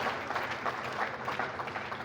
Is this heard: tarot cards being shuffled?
no